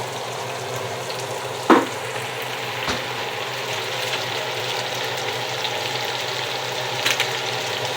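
Potatoes frying in a pan make a continuous low sizzle that holds steady throughout, with a couple of sharp clinks or taps near the start and end.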